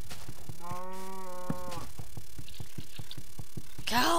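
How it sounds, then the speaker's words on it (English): A Minecraft cow gives one clear, drawn-out synthetic moo of about a second, close and loud over a background of steady game footsteps and clicks, with a sharper burst near the end. "Cow!"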